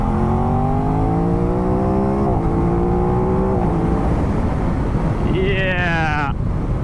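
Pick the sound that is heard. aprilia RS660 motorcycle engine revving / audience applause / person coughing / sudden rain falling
aprilia RS660 motorcycle engine revving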